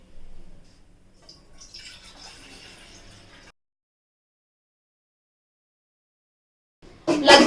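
Water is poured into a container sitting on a gas stove for boiling bananas, a faint trickling splash for a few seconds, then silence, then a louder burst of pouring at the end.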